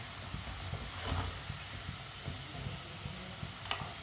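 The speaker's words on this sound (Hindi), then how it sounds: "इसे भी 3-4 मिनट के लिए पका लेंगे ऑयल में।" Potato pieces fry in oil in a pan, giving a soft continuous hiss and sizzle with a few faint clicks, steady and close, with no talking.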